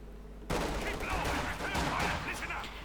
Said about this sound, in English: There's the crews getting annihilated by heavy mortar fire.